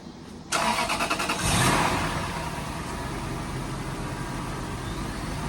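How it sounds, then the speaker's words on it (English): A 2005 Lexus LS430 engine with over 200,000 miles, during a timing belt change, cranks and starts, surging briefly before settling into a steady, fairly loud idle with a broad rumbling hiss. "Rev the engine a couple of times."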